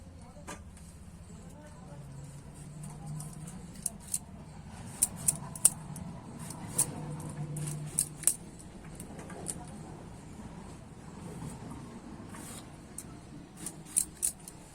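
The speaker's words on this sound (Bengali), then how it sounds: "দেখো এরকম করেই কিন্তু টমেটোগুলো আমি কেটে নেব" Knife slicing through washed tomatoes on a board, with repeated sharp clicks and soft cuts in irregular rhythm, close and fairly quiet over low room noise.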